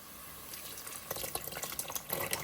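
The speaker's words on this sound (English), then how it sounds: "Now I'm gonna add in my gandules, and I'm going to keep the water in there as well" Canned pigeon peas with their liquid pour and splash into a pot in short bursts, a wet, trickling sound that grows louder partway through, with no talking.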